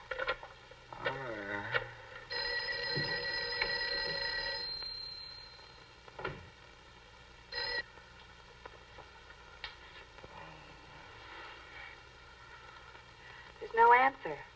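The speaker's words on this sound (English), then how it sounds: "Mary, see if you can get Jan on the phone." A telephone rings in repeated long bursts with pauses between them and nobody picks up, while a few brief low voices and small movement sounds surface between the rings.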